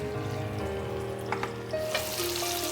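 Rohu fish pieces frying in a pan give a steady, close sizzle with a few light clinks from handling, and no one speaks.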